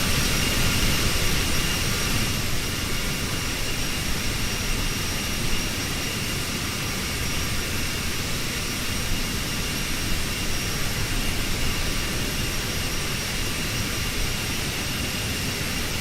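A CRJ regional jet's engines whine steadily in Microsoft Flight Simulator, a loud continuous roar with a high, drill-like tone held unbroken throughout, no voices over it.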